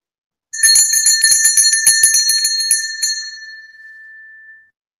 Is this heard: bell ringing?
yes